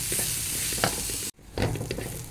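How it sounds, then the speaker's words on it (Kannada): Grated coconut and spices with turmeric fry on a low flame for a mutton boti gojju masala, with a close, steady sizzle and stirring scrapes, broken by a split-second silence before resuming. "ಕಾಯಿ ಎಲ್ಲ ಚೆನ್ನಾಗಿ ಫ್ರೈ ಆಗಿದೆ."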